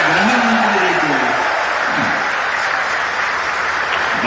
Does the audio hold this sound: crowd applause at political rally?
yes